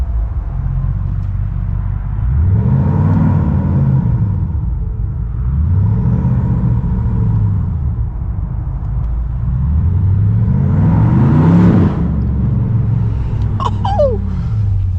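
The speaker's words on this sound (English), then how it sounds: "I'm gonna do launch control. Just to see what it sounds like spooling up." A BMW M550i engine revs up with launch control spooling, producing several deep swelling rev cycles that climb and fall, then a sharper high rev near the end, loud and close with no talking.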